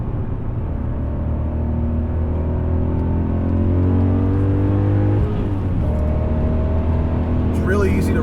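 A BMW E39 M5 V8 engine drones steadily through its Dynon exhaust while driving, with a rising and falling rev pitch and a deep continuous rumble, heard from inside the car.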